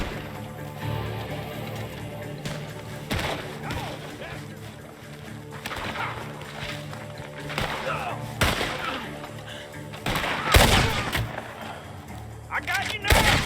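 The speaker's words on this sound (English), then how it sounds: "Gunshots are coming from that barn." Gunfire rings out from a barn in Red Dead Redemption 2, with several sharp, loud shots scattered over a steady game backdrop of music and ambience, some spaced apart and a heavier burst near the end.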